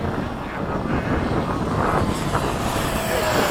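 An FMS 70mm F-16 radio-controlled jet makes a low pass, its ducted-fan whoosh a steady, broad roar that swells slightly as it nears, with a little wind noise.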